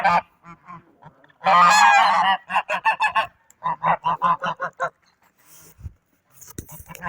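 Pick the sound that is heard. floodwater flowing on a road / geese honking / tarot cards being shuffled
geese honking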